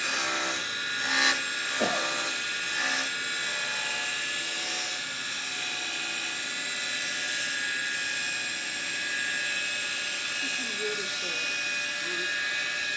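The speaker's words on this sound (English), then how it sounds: "I'm going to round this little square with a roughing out." Roughing gouge rounding a square hardwood blank spinning on a wood lathe, a continuous rough whirring, scraping cut with a steady motor hum, close and sustained, with a voice talking briefly over it.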